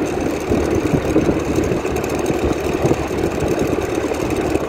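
A car rolls slowly at under 40 km/h through the Kota Baru Parahyangan housing estate in Bandung, its engine a steady, low, even rumble from start to finish with no voices.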